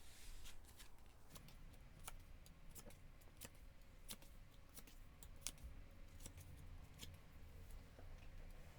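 Tarot cards shuffled and drawn by hand during a love-fortune reading, giving repeated soft, crisp card snaps and flicks over a low room hum, close and fairly quiet, with no talking.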